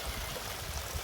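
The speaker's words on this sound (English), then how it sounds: "It's a real tight path with the waterfall going over it." A waterfall pours over a tight, narrow path into a stream, a steady close roar of rushing water with no breaks.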